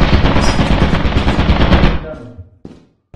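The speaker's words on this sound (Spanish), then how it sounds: "Una torreta." A rapid, loud burst of automatic fire from a turret in the video game Lethal Company, a dense mechanical rattle lasting about two seconds, then cutting off and fading, followed by a brief faint knock.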